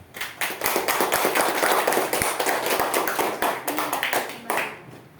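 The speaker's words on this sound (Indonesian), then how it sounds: "Tepuk tangan." Pupils in a Grade 5 primary school classroom clap together, a loud, dense burst of handclaps that carries on for several seconds before trailing off.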